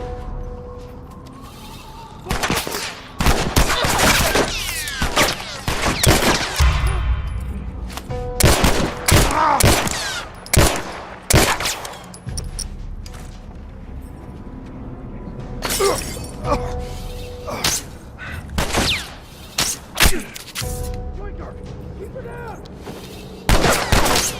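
Shotgun blasts and other weapon fire from The Last of Us, heard as repeated loud, sharp bursts in irregular clusters with shattering, breaking noises between them, while a voice talks over parts of the action.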